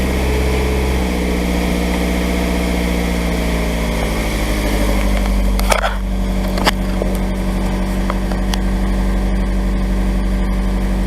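Nissan 180SX S13 turbo engine with a BB T28 turbo, STI 550 injectors and a Z32 MAF cranks and fires on a new Enthalpy ECU, then settles into a loud, steady, slightly lumpy idle, with a couple of sharp clicks partway through.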